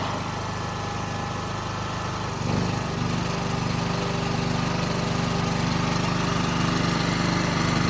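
A 2.5 kW petrol generator runs steadily and loudly, then its engine note drops and labours from about two and a half seconds as a 2 kW fan heater loads it, continuing in a strained, droning hum with no talk.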